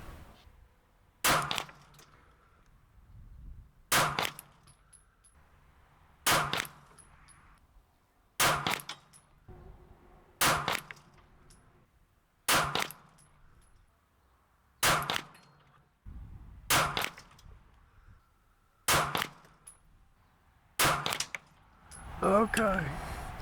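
A P-10S pistol fires about ten evenly spaced shots at a 100-yard target in wind, each a sharp loud crack with quiet gaps of a couple of seconds between them.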